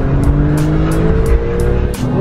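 A car launching at full throttle the moment the brake is released, a loud roaring engine with rising tones and sharp repeated crackles or tire noise throughout.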